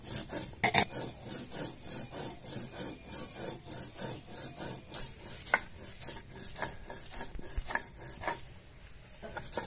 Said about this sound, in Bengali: আমি তরকারির জন্য ঝাল বেটে নিচ্ছি, জিরে, শুকনো লঙ্কা, তারপরে আদা, রসুন, পেঁয়াজ সব বেটে নেব